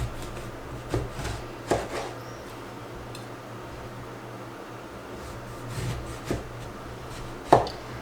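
A knife slicing lemons on a cutting board for dehydrating, a few sharp irregular knocks and taps against the board, close, with quieter rubbing between them.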